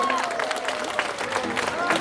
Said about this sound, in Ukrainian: Гучні, бурні оплески для пана Святослава і пана Мирона